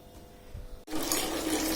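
Tap water gushing in the morning to fill containers at home, starting abruptly after a near-silent pause and then running as a steady, full hiss.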